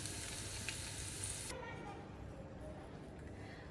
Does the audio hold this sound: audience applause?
no